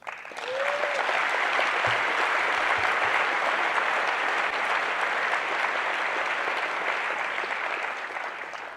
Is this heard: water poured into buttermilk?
no